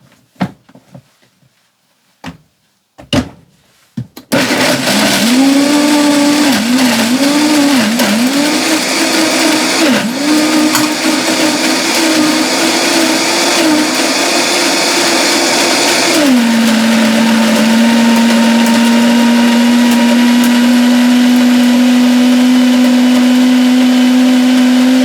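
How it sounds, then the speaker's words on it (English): Countertop blender running loud and steady on a thick mix of vanilla, espresso powder, salt and cacao powder, starting after a few clunks and shifting to a lower, even whir partway through as the load smooths out. "So now we put this in the blender and get it all nice and creamy."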